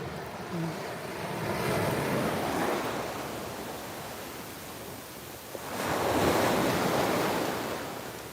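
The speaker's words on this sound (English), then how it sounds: "One last look at the ocean." Ocean waves wash onto a beach at Hutchinson Island, Florida. Two broad swells of surf rise and fade, with wind buffeting the microphone and no talk.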